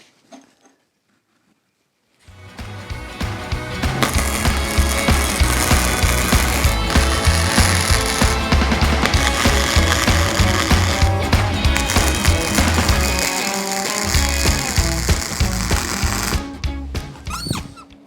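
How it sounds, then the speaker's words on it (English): A MIG welder lays a bead on steel for a homemade form press, with a loud, steady crackling buzz that starts after about two seconds of silence and runs continuously up close until near the end. "and then weld her up"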